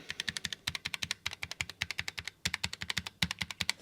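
Rapid, crisp keystrokes clatter on a Redragon K632 PRO Noctis ultra-thin low-profile wireless keyboard in a quick, steady rhythm, close up, with no talking.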